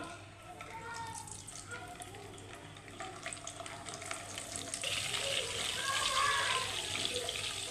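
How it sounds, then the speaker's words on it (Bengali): Soft sizzle of eggs frying in oil that builds and brightens toward the end, close and fairly quiet, with faint kitchen movement underneath. "তো এই যে আমি এখন ডিমগুলো ভেজে নেব।"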